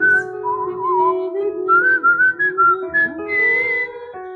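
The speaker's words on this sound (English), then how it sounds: "let's try to whistle that together" A church congregation whistles a hymn tune together, a sustained, fairly loud melodic line with wavering pitch and a few overlapping whistlers, ending in choppier phrases, without speech.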